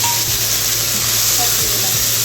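Ginger, cumin and chilli paste frying in hot oil alongside whole garam masala, cinnamon, cloves and a dried chilli, with a loud, dense, continuous sizzle and faint stirring scrapes.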